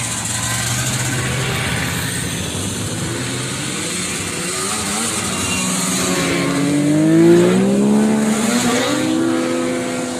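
Vintage snowmobiles, including Panteras, rev their engines as they pass at a show, with rising and falling engine pitch that swells loudest midway through.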